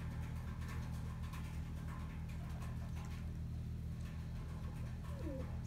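Tippler pigeons cooing softly in a fly loft, low murmuring coos over a steady hum, with faint background noise throughout.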